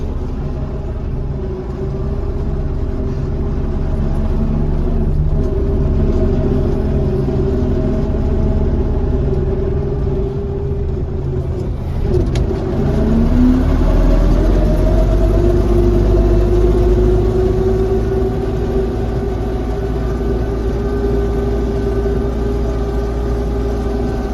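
An MTZ 952.2 tractor engine drones continuously while pulling a deep loosener through a field, a loud steady low rumble that shifts pitch partway through as the load changes, with no voices.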